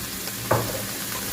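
Clams coated in turmeric, cinnamon and salt get stirred in a frying pan, giving a soft sizzle with one short scraping clatter midway through the brief moment.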